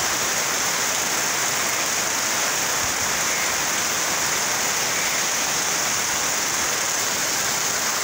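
Torrential rain falls in a thick, even wash of sound, a constant loud hiss of heavy drops with no let-up and no talking.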